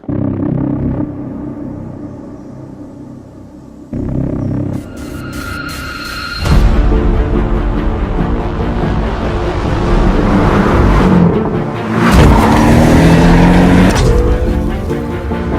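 A Porsche 718 GTS mid-engine sports car rumbles and revs while driving, rising and falling through gear changes, with a louder surge near the end; close and continuous.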